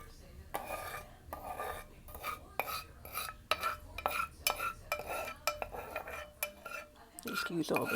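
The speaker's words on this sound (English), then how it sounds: "Excuse all this scraping" A utensil scrapes a homemade muscle and joint balm mixture out of a container in quick repeated strokes, with sharp metallic clinks and scratchy drags in an uneven rhythm at close range.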